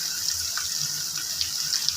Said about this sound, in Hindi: ये आपने पानी डाल दिया इसमें